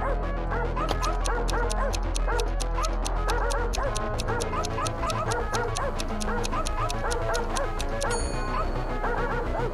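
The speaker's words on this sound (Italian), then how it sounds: "era un cane robot. Abbaiando, corse dietro a Ivy." A robot dog barks repeatedly in quick yapping bursts over busy background music, close and prominent, with no talk.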